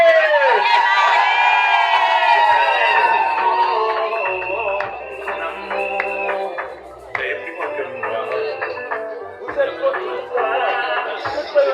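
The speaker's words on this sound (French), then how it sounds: "des cris de joie, des acclamations." A crowd of wedding guests cheers and whoops for the newlyweds, sustained excited shouting and voices, some children's, overlapping at close range with bursts of louder cheers.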